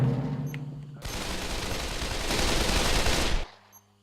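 Gunfire in the VR shooter Pavlov during a competitive match: a sustained, dense burst of rapid automatic fire lasting a few seconds, loud and close, then cutting off abruptly.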